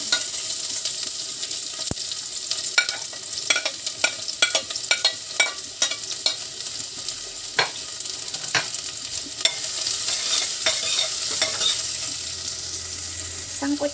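Onion and garlic sautéing in hot oil in a pan give a steady close sizzle, broken by frequent sharp spatula scrapes and taps against the pan.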